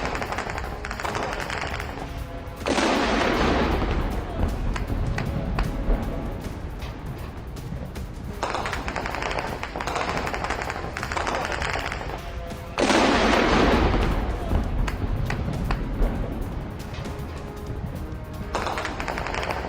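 Explosions from a Russian drone attack on Reni port, Ukraine: loud bursts of rapid blasts and crackling gunfire-like booms repeat in heavy waves, with dense rumbling between the louder outbursts.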